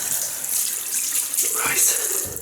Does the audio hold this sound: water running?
yes